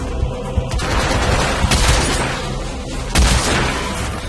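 Bursts of gunfire in the video game Hitman: Absolution, loud and close: a rapid fusillade of shots with two heavier booming volleys, one around the middle and one near the end, and no talk.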